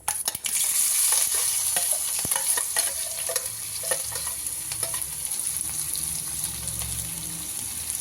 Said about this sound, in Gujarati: સૌથી પહેલાં આપણે ડુંગળી છે એ ફ્રાય કરી દઈશું